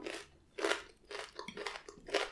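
Crispy fried chicken from a bucket is chewed close up, with four or five loud crunchy bites at an uneven pace, each followed by quieter chewing, and no talk.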